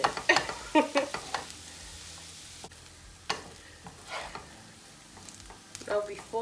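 Pork fried rice gets stirred and tossed in a hot pan, with irregular scraping strokes over a steady sizzle that swells and fades, close and fairly loud, and no voice.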